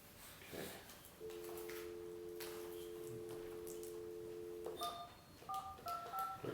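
Telephone dialing tones during a city meeting live stream: a long steady dial tone followed by a quick run of short keypad beeps, heard over faint room noise.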